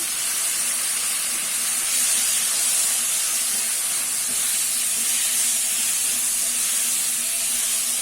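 Two chopped tomatoes sauté in a pan with asafoetida powder for a toor dal vada curry, producing a loud, even, unbroken hiss that holds steady throughout with no voices.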